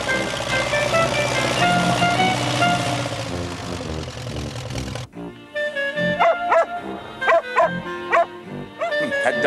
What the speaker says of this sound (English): dog doesn't seem to like me.